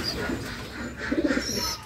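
Pigeons coo in a low, rolling series while being fed, with a brief cluster of throaty coos standing out over a steady murmur of background noise.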